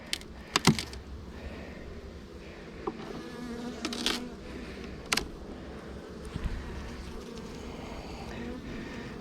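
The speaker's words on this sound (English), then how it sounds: "as you can see how gentle the actual bees are" Honey bees buzz steadily around an opened hive during an inspection, a soft continuous drone with a few sharp knocks and clicks of hive equipment near the start and midway.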